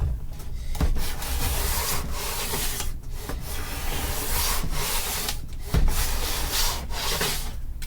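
A hand plane shaves a wooden guitar neck in long rasping strokes, each pass a loud scraping rush broken by short pauses as the blade resets, close and alone.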